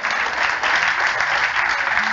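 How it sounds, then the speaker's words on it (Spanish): A church congregation claps together during a sermon, a brief burst of dense, steady applause. "Dele ese aplauso al Señor."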